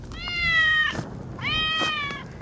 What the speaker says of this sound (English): Perhaps it was the neighbor's cat.